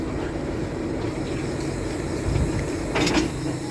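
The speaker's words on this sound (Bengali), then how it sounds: "ইঞ্জিন কাটার কাজটি চলছে" Railway engine being uncoupled from its train at Abdulpur Junction station in Bangladesh, heard as a steady low rumble of an idling locomotive with brief metallic clanks and a short rattle near the end.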